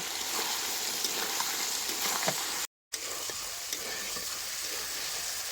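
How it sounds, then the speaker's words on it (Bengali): Meat sautéing in spice paste in a village kitchen with new potatoes, a dense continuous frying sizzle with faint stirring scrapes, briefly cutting out for a moment before resuming, no talk. "এই মশলা থেকে মাংস ভালো মতো কষা নেবো যতক্ষণ না তেল ছাড়বো"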